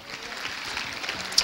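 A church congregation claps their hands during a Sunday morning service, a steady, moderately loud spread of applause lasting a moment, ending with a sharper clap.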